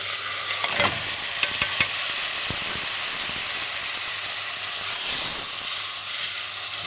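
Food sizzling and frying in a pot for an Egyptian holiday meal after tomato sauce goes in, with a spoon stirring through it in several distinct scrapes over a steady hiss, close and loud.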